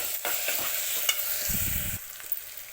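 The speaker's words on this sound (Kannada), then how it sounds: "ಇವಾಗ ಪುದೀನ ಹಾಕಿ ಚೆನ್ನಾಗಿ ಈರುಳ್ಳಿ ಜೊತೆಗೆ ಫ್ರೈ ಮಾಡ್ಕೊತೀನಿ" Chopped mint tossed with onions in a hot pan, a soft sizzle with stirring scrapes and one louder burst of frying, close by and without any voices.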